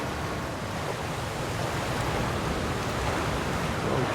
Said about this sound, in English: storm is already incredibly loud